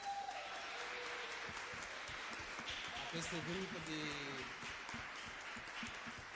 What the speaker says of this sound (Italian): Facciamo un altro applauso a